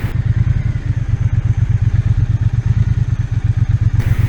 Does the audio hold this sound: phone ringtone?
no